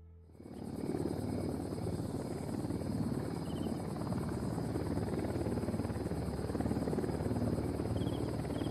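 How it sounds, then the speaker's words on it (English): A helicopter approaches in the video game Ghost Recon Wildlands: a steady rotor drone rises in at the start and holds, with faint insect-like chirps in the background and no talk. "Helicopter incoming."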